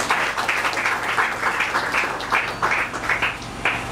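Audience at a women's political event applauding, rhythmic rounds of hand claps over a low steady hum, moderately loud and close throughout.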